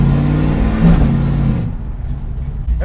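The blown 360 engine of a 1970 Dodge Charger R/T revs loudly and close, then drops off to a lower, rougher idle.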